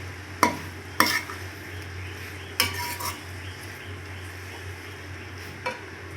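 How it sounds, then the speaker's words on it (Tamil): A utensil stirs chilli parotta pieces frying in a pan, giving a few sharp metallic scrapes and clanks against the pan over a steady sizzle, close up and with no talking. "இந்த பரோட்டாவை இப்போது இதில் சேர்க்கலாம். சேர்த்து நல்லா பிரட்டி விடலாம்."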